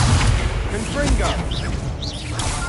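A Confringo spell fired in a video game lands as booming, explosive blasts with low rumbling thuds, while a voice talks over the effects.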